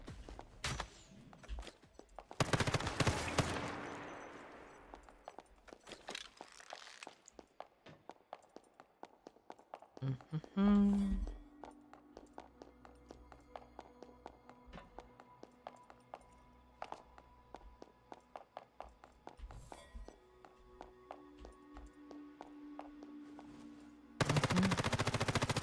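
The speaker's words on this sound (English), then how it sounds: "A zombie with a gun, that's a new one." Gunfire in the post-apocalyptic survival shooter Once Human from an armed zombie, with bursts of rapid shots, scattered single cracks and clicks, and a loud blast near the middle and another burst at the end.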